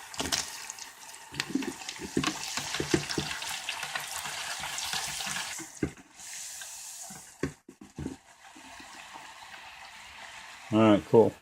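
Big fat homemade fries deep frying in oil bubble and hiss in a dense, steady crackle that fades into quieter gaps with a few clunks, and a voice speaks briefly at the end.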